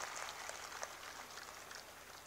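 Dense, steady applause from an audience at a political rally in Haryana, welcoming a speaker onto the stage; continuous clapping throughout with no voices standing out.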